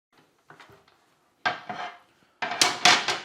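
The release button on an AMZCHEF 2000W 3-in-1 health grill is pressed and the non-stick grill plate comes free. Soft clicks are followed by two louder metallic clunks and rattles as the plate shifts, with no talk.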